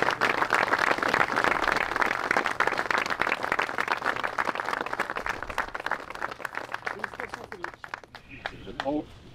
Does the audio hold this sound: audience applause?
yes